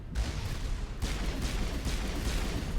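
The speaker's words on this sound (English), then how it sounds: "What is she shooting at?" Continuous gunfire and blasts in Mass Effect 1, a dense, loud barrage of shots and booms with no pause, heard close with no talking.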